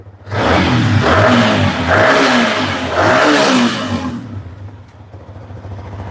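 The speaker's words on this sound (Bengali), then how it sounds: "একমাত্র ইঞ্জিনের সাউন্ড দেখে এটা নিছি ভাই" A 2020 Indonesian-model Yamaha MT-15 motorcycle engine revs close by, with three strong throttle blips rising and falling in quick succession before it drops back to a steady idle.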